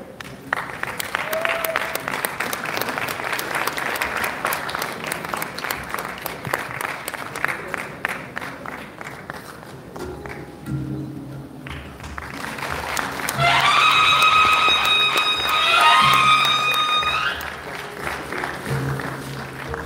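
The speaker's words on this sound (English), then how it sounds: "Mr. Ahmed Sheikh deserves a big round of applause" Sustained applause from a large crowd at a film awards ceremony fills the room, with a brief dip and then a swell of clapping and cheering toward the end.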